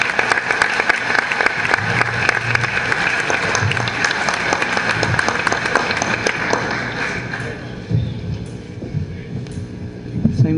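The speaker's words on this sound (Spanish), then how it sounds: "Un aplauso para ella." Sustained, dense applause for the mayor of Lima fills a large hall at a meeting of provincial mayors with President Ollanta Humala, steady and loud before thinning toward the end.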